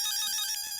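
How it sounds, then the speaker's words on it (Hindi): A telephone rings with a bright, repeating electronic ringtone, steady and fairly loud indoors in a comedy-serial household scene in the Gokuldham housing society, with no voices over it. "फोन आया।"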